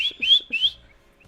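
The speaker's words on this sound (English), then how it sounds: "there's also my caiques outside where you can hear like whistles" Caique parrots kept outdoors give three clear, high, rising whistles in quick succession, close and bright, then go quiet, with no talking.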